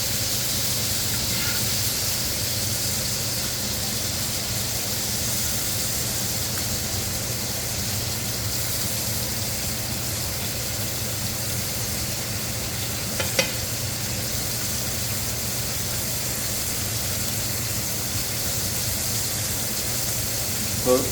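Dry aged backstrap steak sizzling in a cast iron skillet, a steady loud frying hiss with occasional crackles and a faint clink, continuous throughout.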